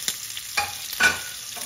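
A hotdog and onions fry in a pan, a soft steady sizzle punctuated by three or four sharper bursts of spatter or stirring, close up with no talk.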